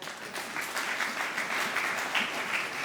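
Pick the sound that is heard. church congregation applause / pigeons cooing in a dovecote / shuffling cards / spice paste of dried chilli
church congregation applause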